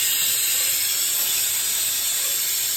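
Spice paste of cumin, chilli, ginger, garlic and onion dropped into hot oil for a country chicken curry, giving a loud, steady, close sizzle and hiss that runs unbroken with no talking.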